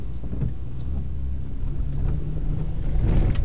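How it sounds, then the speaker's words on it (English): A car drives slowly through a soggy yard full of wet leaves, its engine a low steady rumble close by with muffled squelching and rustling from the tires. "It's like driving through snow. Soggy yard with leaves, full of leaves."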